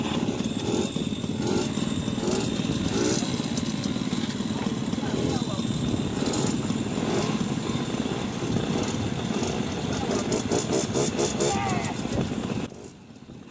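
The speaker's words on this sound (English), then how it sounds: "they were starting to fire up their mighty roaring engines" Several big chopper motorcycles idle and rev together, giving a loud, continuous, buzzy engine roar with rising throttle bursts. Voices murmur faintly beneath it before the noise drops away at the end.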